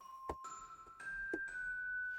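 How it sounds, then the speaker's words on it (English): A celeste plays a few bright, bell-like notes that ring and sustain, with soft tinkling strikes over a quiet background, part of a soundtrack for a Chipotle Halloween game. "the other little instrument that we've got in there as well is a Celeste that's playing this kind"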